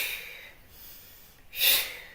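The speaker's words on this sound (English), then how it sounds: "exhale through the mouth." A single breathy exhale through the mouth during a qigong breathing exercise outdoors in nature, a soft airy rush that swells near the end after quiet breathing.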